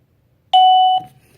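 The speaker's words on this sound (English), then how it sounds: "So first I press this and wait for the chime." A PLZ WiFi wireless doorbell chimer gives one loud, clear electronic tone while pairing. The tone lasts about half a second, then fades into faint room noise.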